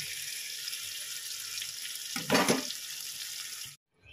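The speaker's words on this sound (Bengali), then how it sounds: "আমি জল দিয়ে দিয়েছি, কাঁচা মাছের ভাপা করব ইলিশ, ওর জন্য জল দিয়ে দিয়েছি।" Water runs with a constant hiss, then a short louder splash as water is poured into a pan of raw hilsa fish pieces for steaming, before the sound cuts off abruptly.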